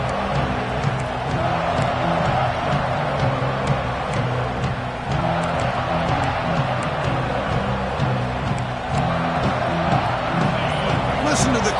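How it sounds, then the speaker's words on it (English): A dense stadium crowd roars and murmurs steadily through the early going of a college football game featuring the Volunteers, a hostile environment for visitors, with broadcast commentary talking over the crowd's constant swell. "Listen to the crowd energy here in the early going"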